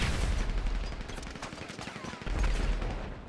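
Rapid bursts of gunfire in the video game GTA V crackle and pop continuously, dense and loud, with a brief lull before another volley.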